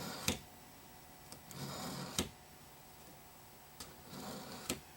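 A knife is drawn through a two-sided coarse-and-fine sharpener in a few separate strokes, each a short, sharp scraping rasp with quiet pauses in between, heard close up with no talking.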